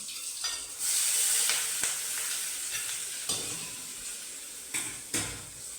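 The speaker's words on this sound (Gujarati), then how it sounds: "તેલ થઈ ગયું છે, થોડુંક જીરું અને થોડી કમથી વઘારી" Cumin seeds sizzle and crackle in hot oil, with a few sharp scrapes of a spoon stirring the pan.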